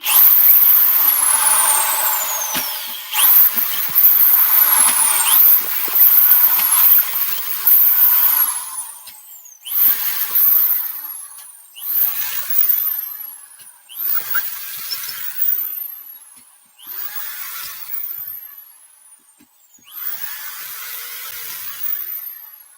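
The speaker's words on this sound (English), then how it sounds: "Let's put some screws in my floor." A power drill drives screws into a floor in a series of loud high whirring bursts that rise and fall in pitch, about seven runs separated by short pauses, close up with no talking.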